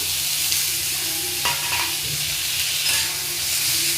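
Tomatoes sautéing in a pan with kokum, a bright continuous sizzle heard close up, with a couple of brief stirring knocks, no voices.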